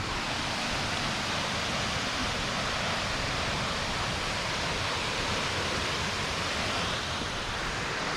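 A waterfall near a mountain temple pours with a constant, dense rushing hiss, even and unbroken from start to finish, with no voices over it.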